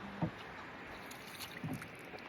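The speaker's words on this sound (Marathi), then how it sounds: "मस्त आहे होडीचा प्रवास, खूप सुंदर आनंद आहे." A rowboat moves along a tidal creek with two soft, low water splashes or oar strokes about a second and a half apart over faint open-air background, quiet and unhurried with no talk.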